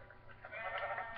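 Sheep in the video game Minecraft giving a single short wavering bleat, clear and moderately loud, with no talking.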